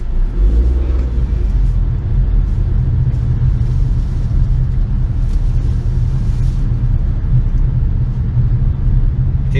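A 2022 Honda CR-V EX-L runs through a tight turn around cones, with a steady low engine and road rumble that stays close and even throughout, with no revving peaks.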